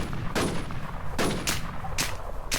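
Gunfire in the online survival shooter WarZ: four sharp shots with gaps between them, fairly loud and close, over a low background hum, and nobody speaks.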